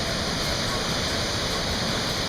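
Waterfall on the Salkantay trek to Machu Picchu, water pouring over smooth carved rocks in a loud, steady broadband roar that holds unbroken and close throughout.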